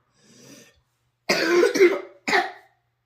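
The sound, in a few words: child coughing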